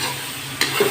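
Okra bhujia fries in a pan as a spoon stirs it, a brief scrape over a steady sizzle, close and alone.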